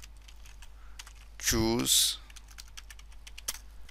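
Computer keyboard keys tap in a steady scatter of light clicks while a web page template is built, with a brief spoken word cutting in midway.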